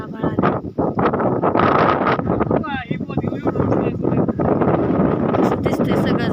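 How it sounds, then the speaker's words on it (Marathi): Gusty wind sweeps across open village fields as dark clouds gather before rain, buffeting the microphone with a loud, continuous roar beneath steady conversation. "वारं सुटलं की नाही?"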